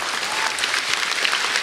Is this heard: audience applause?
yes